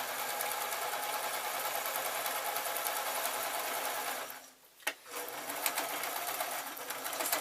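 A sewing machine stitches a scarf made from leftover yarn or fabric, running in a steady, continuous whir close by, with a brief pause partway through before the stitching resumes.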